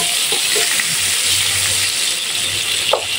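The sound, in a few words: large onion slice sautéing in oil in pan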